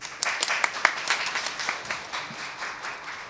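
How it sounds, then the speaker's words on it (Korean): Applause from a modest audience opening a panel discussion on Korean household debt: scattered individual claps at first, merging into a softer, steady patter that tapers off. "일괄적으로 5분 박수로 일단 시작을 하도록 하겠습니다"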